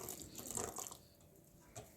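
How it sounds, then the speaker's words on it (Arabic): Hot water is poured over bulgur in a bowl, giving a soft, continuous splashing trickle for about two seconds, fairly quiet and with no voices. "حطيناها بالطاسة، بننزل عليهن المي الساخنة"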